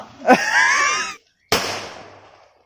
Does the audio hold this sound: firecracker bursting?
yes